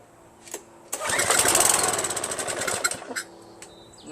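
A Craftsman pressure washer's small petrol engine, running on choke, catches after a couple of pulls and runs roughly for about two seconds with a rapid uneven chug before sputtering and dying back to near quiet.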